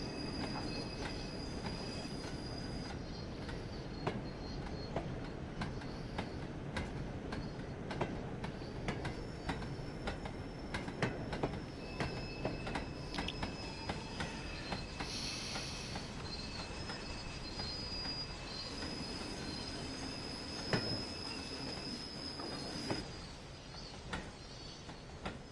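Train wagons roll steadily in Train Sim World 6, viewed from a brake van behind the loco, with continuous rumble, rattling clunks and sustained high metallic wheel squeal throughout, no talking.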